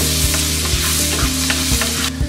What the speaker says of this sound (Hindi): बटर में हम डालेंगे लहसुन और हरी मिर्च।